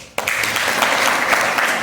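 A gathering at a village school event for a former teacher bursts into applause, dense steady clapping from many hands that starts abruptly and carries on evenly.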